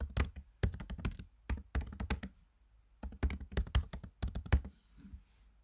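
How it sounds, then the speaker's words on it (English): Keys clatter on a computer keyboard in quick bursts of typing, close and clear, with short pauses between runs of keystrokes. "I can just literally type on the screen."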